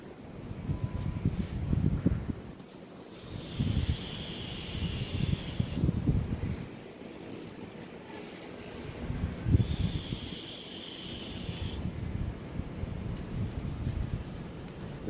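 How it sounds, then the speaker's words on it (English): Strong wind gusting outdoors, a broad rushing roar with buffeting on the microphone that swells and eases in waves, with brief hissy high bursts at two points. "The wind is kicking up here pretty strong."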